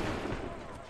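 Muffled musket volley during an Assassin's Creed III battle, a short rumbling burst of massed gunfire at a distance, low and dull.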